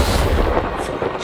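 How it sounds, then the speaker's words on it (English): The Avada Kedavra spell is cast in Hogwarts Legacy, a short, loud booming blast with a rumbling, thunder-like roar that fills the whole moment. "АВАДА КЕДАВРА!"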